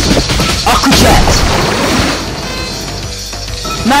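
Aqua Jet attack effects from the Pokemon Quest video game: a loud, continuous burst of rushing, crashing battle noise that swells and then eases slightly while a voice speaks over it.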